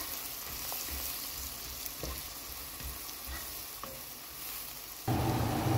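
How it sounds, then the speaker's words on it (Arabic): Spices and garlic stirred in a frying pan for a Basra-style shrimp dish, a steady close sizzle with faint scrapes, rising louder near the end. "والبهارات نخلطها لحد ما تتجانس"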